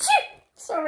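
One sharp, close sneeze bursts out at the start, then a person briefly speaks right after.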